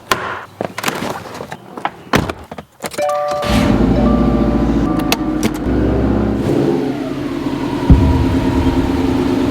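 Subaru WRX STI engine idling and running steadily at close range after a few bumps and clicks, a low continuous drone that fills most of the clip while the car is turned around.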